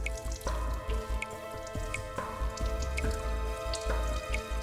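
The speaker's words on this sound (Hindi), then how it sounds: "यहां से पानी टपक रहा है" Water drips steadily from a leak, a series of distinct, moderately close drops falling at irregular intervals over a low background hum, with no voices.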